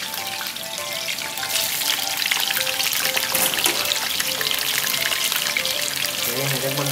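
Potatoes frying in hot oil for chicken biryani, a dense steady crackle and sizzle that swells after the first second and holds loud and even throughout.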